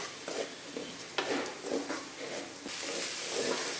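Chopped onions soften in a hot pan for egg bhurji, a low sizzle under intermittent spatula stirs and light scrapes, close by, with the hiss growing a little brighter toward the end.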